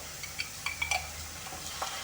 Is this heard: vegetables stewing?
yes